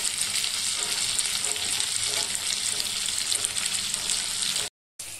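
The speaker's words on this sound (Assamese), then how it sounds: "মাছখিনি এটা সাইডে ফ্ৰাই হৈ গৈছে" Steady, close sizzling of fish frying in a hot pan, a continuous crackle throughout that cuts out briefly near the end.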